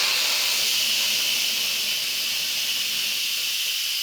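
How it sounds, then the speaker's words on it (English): Pressure cooker venting the rest of its steam after a natural release while cooking a taco filling, a loud, steady hiss that stays constant and close throughout. "then we'll release the rest of the steam at that time."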